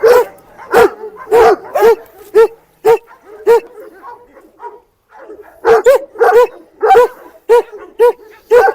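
A Kangal and a Rottweiler bark repeatedly up close, loud deep woofs in quick bursts, with a short lull midway before the barking resumes in a steady rhythm.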